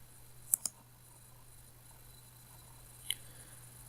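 Three sharp mouse clicks sound while glass-production management software is used: a quick pair close together, then a single click after a pause, against a faint steady hum.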